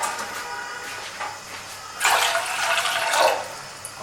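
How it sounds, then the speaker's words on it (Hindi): Water is poured from a glass into a cooking pot for sweet vermicelli, a soft splashing stream that swells after a couple of seconds, close by and alone with no talk. "इसमें 2 गिलास हम पानी शामिल करेंगे,"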